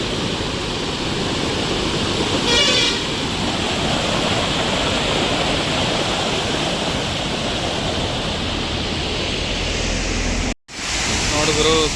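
A large waterfall pours down a Mangaluru hillside, filling the clip with a loud, steady, close rushing roar of water that cuts out briefly near the end.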